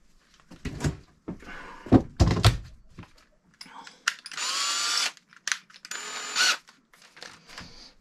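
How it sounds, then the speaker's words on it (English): Electric drill boring a hole with a 10mm bit during air filter work on an MX5 project car, with a few short bursts of drilling, knocks and handling thuds nearby. "I'll have to use a 10mm drill bit for now."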